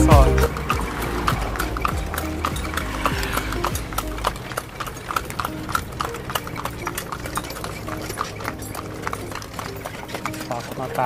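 Horse hooves clip-clop in a steady, close rhythm as a kalesa carriage is pulled through the streets of Vigan, with a heavy thump at the start and people talking over the hoofbeats.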